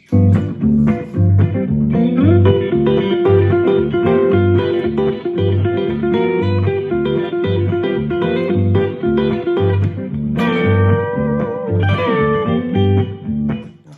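Loud electric guitar plays a quick repeating pull-off lick of rapid notes over a steady rhythm, then shifts higher near the end, with no talking.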